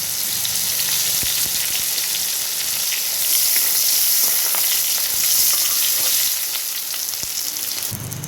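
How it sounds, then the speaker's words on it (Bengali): Chopped bay leaves fry in hot oil in a kitchen pan, a loud, dense crackling sizzle that continues steadily with no talk, spiking briefly near the end. "3-4টে তেজপাতা কুচোনো আমি গরম তেলে দিয়ে দিচ্ছি।"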